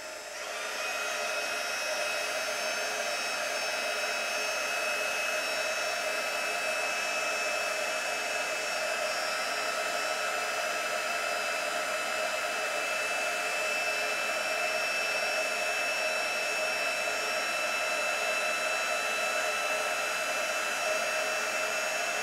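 A heat gun runs for a long stretch, melting clear embossing powder on a handmade card, giving a steady, loud, close whirring blow with a constant high whine and no pauses or talk.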